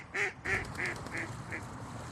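Ducks at a bog quack in a quick run of about five calls, the first ones loudest and the later ones growing fainter, over a soft outdoor background.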